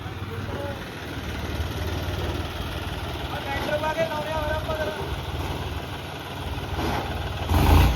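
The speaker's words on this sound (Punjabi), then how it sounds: "ਜਿੱਧਰ ਆਪਣਾ ਟਰੈਕਟਰ ਜਾਂਦਾ" A steady, low tractor engine idle rumbles throughout at a building site with some chatter from nearby people, and the engine surges briefly louder near the end.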